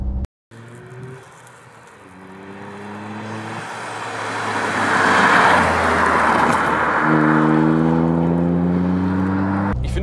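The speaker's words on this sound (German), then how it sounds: "So hört sich die Abgasanlage an" A Toyota GR Yaris accelerates hard on its rally-style exhaust, the engine note building steadily from a low drone to a loud, sustained roar as it pulls under load, with no voices over it.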